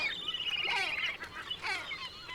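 Harsh, honking gull calls come in short repeated bursts at moderate distance as an adult black-backed gull attacks and drowns a young herring gull, with no talking.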